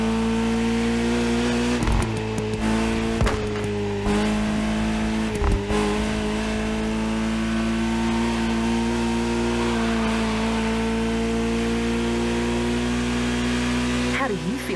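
A Ferrari 308 GTS engine in the video game The Crew Motorfest holds a steady droning hum throughout, with brief shifts and a small rev near the end.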